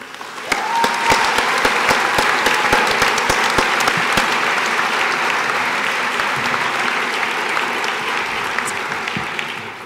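A graduation ceremony audience applauds steadily, a dense, loud wash of clapping that starts just after the opening and holds for the full length with a few sharp individual claps near the start.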